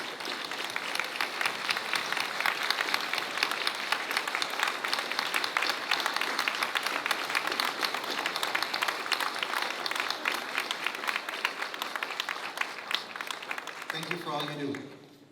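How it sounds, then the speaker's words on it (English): Audience at a waterworks 75th anniversary ceremony gives employees a long burst of dense applause lasting about fourteen seconds before fading as a voice starts speaking. "we can give everybody a big hand of applause"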